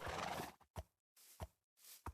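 A horse in the Minecraft video game gives several short neighing bursts with brief quiet gaps between them, fairly faint, with no talk.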